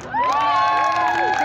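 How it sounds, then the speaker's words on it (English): Children and a crowd at an outdoor music festival in Wiikwemkoong cheer and shout loudly for a young contestant in a dance contest, a dense burst of overlapping high voices and whoops sustained for a moment. "based on how loud you guys cheer, you guys are going to choose who you think should win"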